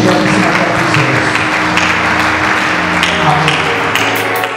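Loud, dense applause from a church congregation fills the room without a break, a steady wash of clapping hands with no talking over it.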